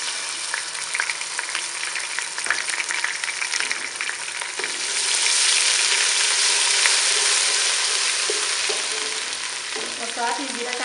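Ginger garlic paste is added to golden brown onions and fries in a pan with a loud, steady sizzle, with occasional stirring clinks over about eleven seconds.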